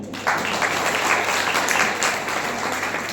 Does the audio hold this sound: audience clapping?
yes